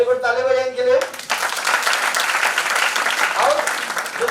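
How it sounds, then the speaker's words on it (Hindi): An audience at a system meeting breaks into loud, sustained applause right after a voice speaks, the clapping filling the room for several seconds. "वेरी गुड, ताली बजाएं इनके लिए"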